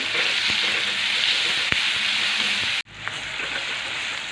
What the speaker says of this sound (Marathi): मस्त एकसारखा हलवत परतून घ्यायचा आहे आता कांदा आपला पटकन परतावा